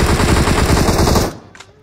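Rapid automatic gunfire in a battle royale video game rattles loudly in a dense burst, then cuts off abruptly and leaves only faint trailing sounds.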